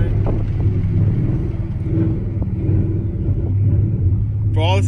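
A loud 2018 Ford Mustang GT with suspension work and Baer drag brakes rumbles steadily while driving, a deep continuous exhaust drone heard from inside the cabin with people talking over it.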